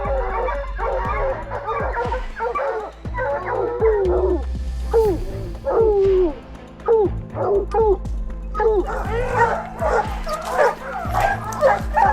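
Several hunting dogs of breeds such as German Shepherd, Doberman and Dogo, out on a lion hunt in the wild terrain of South Africa, bark, yip and whimper in a dense, excited, close chorus.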